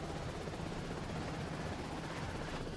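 Steady, continuous helicopter rotor drone in the video game Prototype, with a low rumbling throb, filling the whole stretch with no voices.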